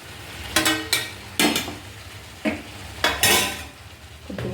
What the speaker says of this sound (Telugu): ఇందులో మనం కట్ చేసి పెట్టుకున్న టమాటోలు యాడ్ చేసేయాలి